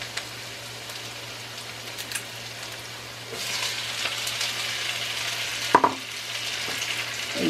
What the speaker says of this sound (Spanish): Vamos a sofreír bien esto.